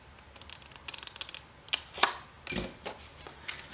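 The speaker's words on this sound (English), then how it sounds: "Turn my scissors because they are serrated on one side." Quiet snipping and crunching of serrated scissors cutting through paper, a series of irregular cuts with a few sharper clicks, close by and alone.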